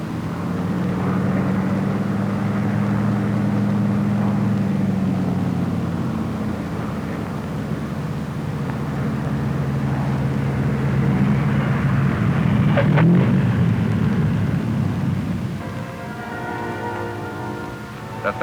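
Lockheed P-38 Lightning fighter aircraft of World War II in flight, giving a steady, droning engine roar mixed with broad hiss that holds for the whole stretch, with no speech.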